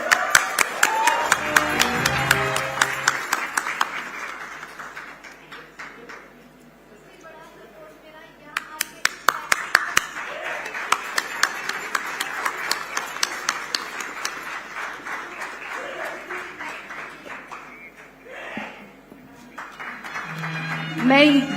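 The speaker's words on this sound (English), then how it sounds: "a huge round of applause for Vijay Sethupathi" An audience at an award ceremony claps, with applause rising and falling over about twenty seconds, moderately loud and partly mixed with a voice speaking.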